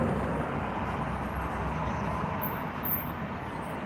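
Steady, dense roar of slow heavy traffic on the Dan Ryan expressway in Chicago, a continuous broadband rumble heard from inside a vehicle with faint higher whines.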